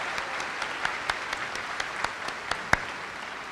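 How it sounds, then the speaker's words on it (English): Graduation audience at a high school commencement clapping for the speakers, a thin, distant patter of applause with a few sharper individual claps standing out, fairly faint throughout. "So one more round of applause for them"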